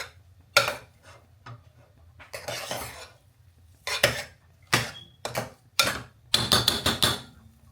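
A spoon stirs dry potato bhaji in a dish, meant to be eaten with bhungla, giving close, irregular bursts of clinks and scrapes against the vessel with short pauses between them. No one speaks.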